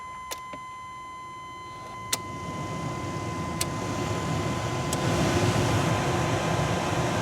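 Heater blower fan in a 1996-98 Chevrolet C/K series pickup running after a melted blower switch was replaced, a steady airy whoosh that gradually builds in strength, with a few faint clicks of the switch near the start.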